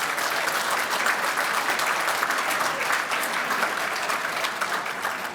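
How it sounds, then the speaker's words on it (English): Dense, steady applause from a large audience at an Apollo 50th anniversary reunion for the Honeysuckle Creek tracking station, filling the whole stretch at an even, loud level with no break. "give them a big round of applause."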